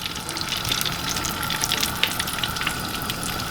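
Chicken pieces dropping into hot frying oil, a steady bright sizzle and bubbling hiss that continues evenly throughout, with no voices.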